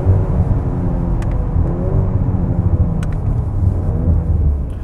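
An Audi RS5 with a twin-turbo engine accelerates from inside the car, a deep, loud rumbling drone that holds steady throughout with no speech.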